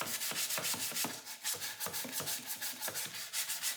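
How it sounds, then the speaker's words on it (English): Sandpaper rubs back and forth along the edges of a wooden 2x2 in quick, regular strokes, a soft rasping swish repeating about five times a second, close and quiet. "you also want to cut the edge with sandpaper to avoid splinters from people using it later. Sand along every edge and surface"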